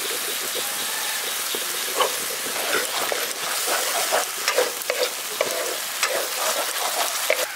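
Cashew paste hits sizzling fried spice masala in a village-style pointed gourd dish, giving a constant crackling fry with scattered sharp pops and scraping stirs, close and steady, with no talking.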